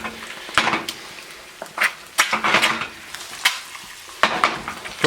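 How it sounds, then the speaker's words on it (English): Toast frying in olive oil in a pan for mushroom eggs Benedict, a steady close sizzle broken by repeated clattering scrapes and taps of a utensil against the pan, with no talking. "Let's put our toast down. Cooked in olive oil, not butter."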